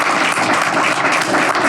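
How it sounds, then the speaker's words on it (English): An audience claps together in a dense, steady round of applause at a business talk, loud and close, filling the whole moment without speech. "Let's give her a round of applause."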